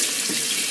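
Hot water pours from a tap in a steady, close, full-bodied rush that fills the moment evenly without any talking.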